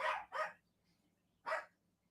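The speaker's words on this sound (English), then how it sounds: "Dog's going crazy." A dog barks three times, two quick sharp barks followed by a single one after a short gap, fairly faint and somewhat distant.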